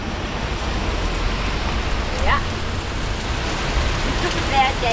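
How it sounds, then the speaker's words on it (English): Heavy rain pours steadily on Florida's east coast in a dense, even hiss, with a faint high chirp briefly rising over it. "Now it is pouring."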